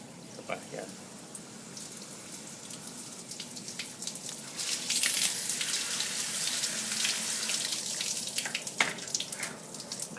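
Water pours and drains through river sand in a plant pot, a steady trickling wash that swells louder midway and runs on continuously, with faint speech-like murmur in the background.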